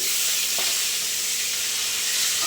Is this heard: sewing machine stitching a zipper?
no